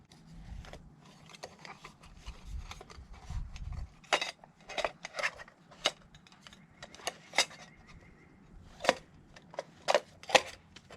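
A camp cook kit pot lid is set back onto the pot, with several sharp metallic clinks and rattles spread across the clip, fairly close and with no talking.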